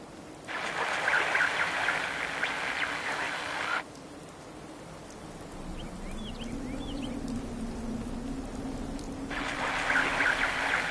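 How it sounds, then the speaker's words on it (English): Rain falling in a PS4 video game, a steady hiss of downpour that cuts out partway and returns later, with a low rumbling ambience beneath and faint chirps during the quieter stretch. "Hope this rain lets up soon."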